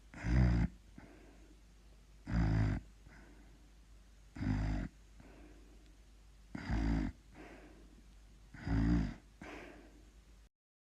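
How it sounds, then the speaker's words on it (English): Snoring from a sleeping female, five loud breathy bursts spaced about two seconds apart, each a rough low rumble with a faint quieter breath in between, close and with no talk. "Yes, she is snoring."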